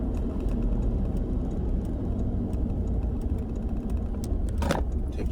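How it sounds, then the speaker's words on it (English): A broken-down car sits in a parking lot and gives off a steady, low engine rumble with no break. A few faint clicks and a brief brighter burst sound near the end, with no talk. "The car broke down here in front of me."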